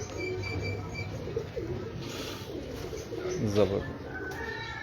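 Antique breeder pigeons cooing in low, rolling bursts close by, with someone talking over them throughout.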